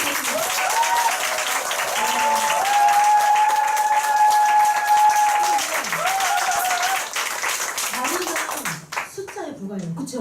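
Audience applause at a Nu Skin group meeting and award ceremony fills the room, with a sustained whistle-like tone riding over the clapping before it thins out near the end.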